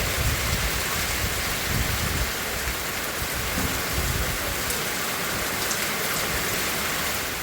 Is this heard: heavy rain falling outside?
yes